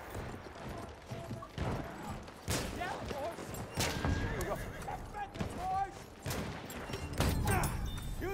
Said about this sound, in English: I'm running around on a horse right now, man.